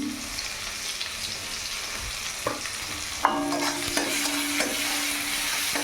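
Chopped onion fries in oil with dried chillies and salt in a kadai, a continuous sizzle with a spatula scraping and knocking against the pan several times in the second half.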